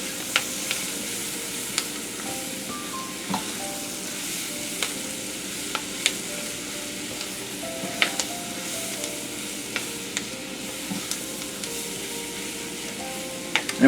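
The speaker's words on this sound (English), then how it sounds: "The flour and the oil will coat the vegetables." Chopped vegetables sizzle steadily in hot oil and flour for an étouffée, a continuous close frying hiss broken by light scrapes and taps of stirring.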